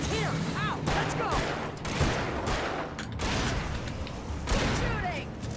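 Gunfire rattles through a firefight in the Alan Wake video game, repeated loud shots and bursts over a constant noisy backdrop, with voices talking over the action.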